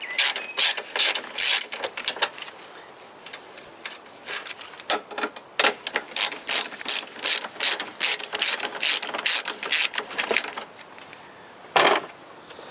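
A socket wrench ratchets on a Toyota Corolla battery bolt, sharp, close clicking strokes in quick repeated bursts with brief pauses, loud and alone, ending in one last isolated turn.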